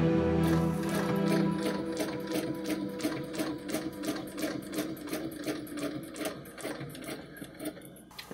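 Long-arm quilting machine stitching steadily along a Westalee design ruler template, a fast regular needle rhythm with mechanical whir, close and continuous, with no talking.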